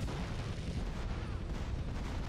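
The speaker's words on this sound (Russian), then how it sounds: "12 выстрелов потребует, чтобы сбить 2 вертолета" Dense, rumbling gunfire from a video game as shots are aimed at helicopters, a continuous rough roar of rapid bursts at moderate level with no pauses.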